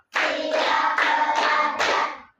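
A primary school class claps hands together in a steady rhythm, a loud burst of collective clapping with several short pauses between rounds, no talking.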